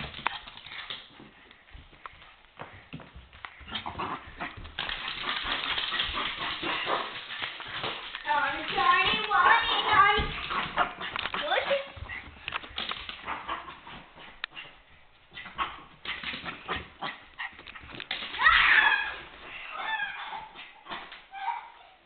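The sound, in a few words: Chiweenie dog barking and whimpering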